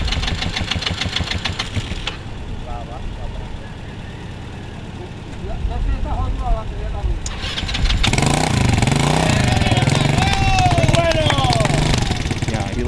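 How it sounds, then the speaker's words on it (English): A motorcycle engine on a roadside is cranked and then starts, dropping into a rough idle that grows louder near the end. People talk throughout. "he gets his bike started, you know, and he just starts heading up."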